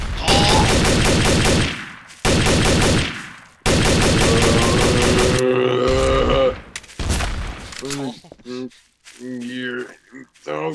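Gunfire in Trouble in Terrorist Town, a Garry's Mod game: loud rapid automatic bursts in several long runs separated by brief gaps, then players talk over scattered shots near the end.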